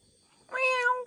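A cat gives a single clear, close meow lasting about half a second after a moment of quiet.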